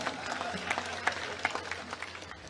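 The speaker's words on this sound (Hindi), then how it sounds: "उनको भी ताली बजाई ने फिर से अपन जोरदार स्वागत करा" Rally audience at a beneficiaries' gathering in Depalpur clapping to welcome a guest, a scattered, moderately distant round of applause with individual claps standing out, fading toward the end.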